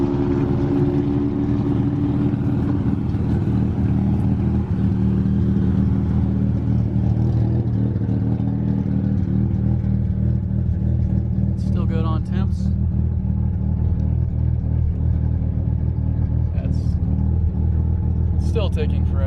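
A Mazda FC RX-7 time attack car idles steadily with a low, continuous engine rumble, close and unbroken throughout, with brief faint knocks or clicks near the end and no talking.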